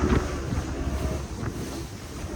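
A boat runs on the open sea near Shivrajpur beach, its steady engine rumble mixed with strong wind buffeting and the wash of water, loud and continuous.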